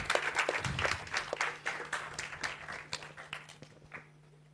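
An audience at a book launch claps for a speaker after a conversation. The applause is fairly quiet and steady, with scattered claps that thin out toward the end, and no voices over it.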